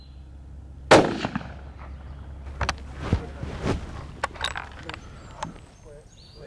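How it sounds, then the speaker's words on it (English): A rifle shot fired while zeroing a scope at 100 metres on a wild boar hunt in Tuscany: one sharp, loud crack near the start, followed by quieter handling clicks and knocks outdoors. "We'll put another shot through just to be sure."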